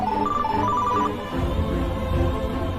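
A telephone ringing with a bright repeating ring tone under a layer of dramatic background music, loud and steady throughout with no talking.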